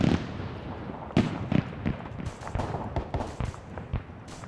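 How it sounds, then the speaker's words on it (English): Heavy cannons fire in a video game battle set in an Argentina campaign, a steady run of sharp booms at uneven intervals over a constant noisy battlefield background. "You're hearing their heavy cannons going off right now."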